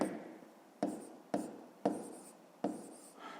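Pen or pencil writing a fraction by hand on paper, quiet close scratchy strokes in several short bursts, each starting with a tap and fading.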